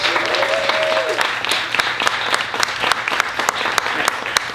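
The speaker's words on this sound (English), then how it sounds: "Let's give them a round of applause." Loud audience applause at a talk, with many hands clapping steadily and a few sharp individual claps standing out, while voices carry faintly beneath.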